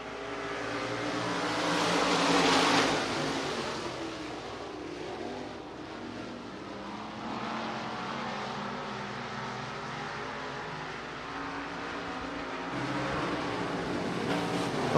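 Stock cars race around the banked Hancock County Speedway oval at the Night of 10,000 Stars, a droning engine roar that swells past around the third second, eases, then builds again toward the end.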